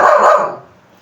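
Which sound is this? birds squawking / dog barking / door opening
dog barking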